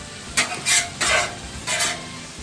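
Onions stirred around a hot frying pan for a stir fry: a steady sizzle with four bursts of scraping and tossing, each louder for a moment before settling back, close and with no voices.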